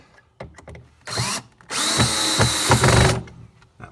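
A power drill drives screws into a wooden hutch in two bursts, a short whirring run and then a longer, louder one that strains as each screw bites into the wood. Soft clicks and handling noises fall between the bursts.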